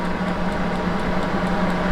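A Tasalon ionic hooded hair dryer blows a steady, close fan whoosh with a constant motor hum, unbroken and fairly loud, without any talking.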